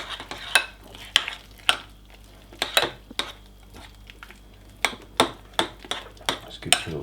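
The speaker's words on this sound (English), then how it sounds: "Let's give it a little stir." A spoon stirs a thick banana casein protein mixture in a bowl, clinking against the sides in irregular sharp taps and scrapes, close up with no talking.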